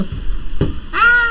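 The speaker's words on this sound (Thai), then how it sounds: "แมว" A cat meows close and loud, a short drawn cry followed by a brief rising tone, set over steady background sound from the game Cabal M.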